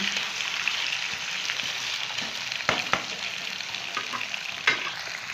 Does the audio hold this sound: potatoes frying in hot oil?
yes